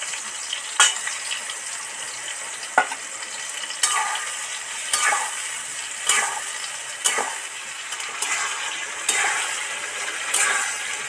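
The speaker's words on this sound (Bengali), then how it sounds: "টমেটো আলু সব একদম ভাজা হয়ে গেছে, একদম সিদ্ধ তেলে হয়ে গেছে। এবার এই মশলাটা দিয়ে দেব।" Spices, tomato and potato sizzle in oil while a utensil stirs and scrapes the pan in regular strokes, each stroke a short scrape over a constant frying hiss.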